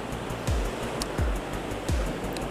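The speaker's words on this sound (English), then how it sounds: "there's some waves coming in" Sea waves wash in steadily at a rocky coastal fishing spot, a constant roar of surf with three heavier surges breaking at regular intervals, close and loud.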